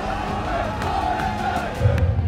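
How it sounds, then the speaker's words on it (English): Danish Counter-Strike fans roaring in a stadium at an esports event, a sustained crowd roar with swelling cheers and a louder surge near the end. "the roar of the crowd is firing through the stadium"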